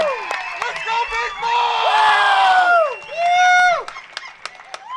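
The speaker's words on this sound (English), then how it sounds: "let's get one more round of applause for these warriors tonight" Loud arena crowd cheering and whooping for bare-knuckle MMA fighters after a main event bout, with shouts rising and falling in bursts over a steady roar.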